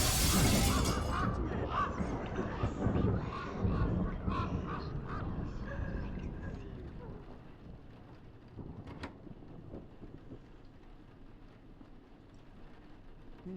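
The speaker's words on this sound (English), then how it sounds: "Crows." Crows cawing in the horror video game Rise of Insanity, with loud crashing, rumbling game noise at first that fades down, leaving sparse harsh caws and quieter ambience toward the end.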